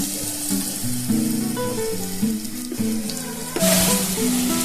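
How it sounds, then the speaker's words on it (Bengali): Dhoka, fried lentil cakes, sizzle in hot oil in a home kitchen, a steady crackling fry that turns brighter and louder near the end amid soft clinks of utensils, with no talking. "দেখুন ধোকাগুলো খুব সুন্দরভাবে লাল লাল করে ভেজেছি"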